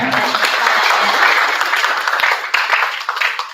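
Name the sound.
audience applause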